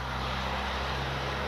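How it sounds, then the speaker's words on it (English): A big quarry truck drives past outdoors near a garden, a steady low engine rumble and road roar holding at constant loudness for the whole moment without any talking. "Big truck going by."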